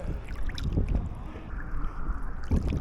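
A narrowboat being paddled along a canal, heard as close, rhythmic paddle strokes and splashes in the water under steady wind buffeting the microphone, with no voices.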